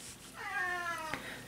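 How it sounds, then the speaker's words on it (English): A domestic cat gives one clear, drawn-out meow for attention, close but fairly soft, in a quiet room. "Sorry about that, that's my cat."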